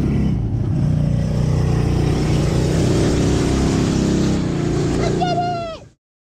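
An ATV four-wheeler engine runs loud and steady for several seconds on a test ride, a continuous low rumble that climbs into a brief rising rev near the end before cutting off abruptly.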